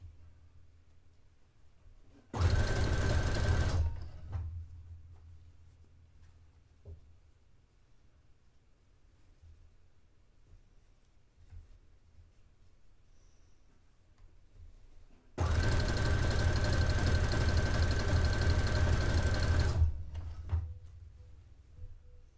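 A sewing machine runs a stretch stitch in two bursts, a short one of under two seconds and a longer one of about four seconds, loud and close with quiet pauses between.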